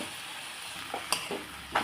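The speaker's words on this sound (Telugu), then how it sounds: "చింతపండు నానబెట్టుకున్నది ఇలా వేసుకోవాలండి" Soaked tamarind with its soaking water goes into a hot pan while cooking pudina rice, giving a short, quiet hiss and a few brief sizzling bursts over a faint background.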